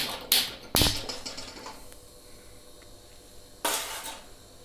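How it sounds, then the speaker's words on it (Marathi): A metal kadai pan is set down on a stove, giving a few sharp clinks and knocks near the start and another a few seconds later, with quiet kitchen room tone in between. "त्यासाठी कढई गरम करायला ठेवली"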